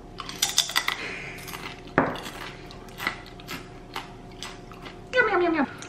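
Extra crispy oven-baked potatoes crunched close up in a few short, sharp bursts, with scattered clicks and clatter, and a voice speaking briefly toward the end.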